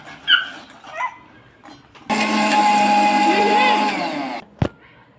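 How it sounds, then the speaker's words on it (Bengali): A kitchen mixer blending biscuits whirs loudly for about two seconds in one steady burst, after a few quieter scattered sounds and followed by a sharp knock. "এবার আমরা মিক্সারে এই বিস্কিটগুলো দিয়ে দিব আর ব্লেন্ড করে নেব।"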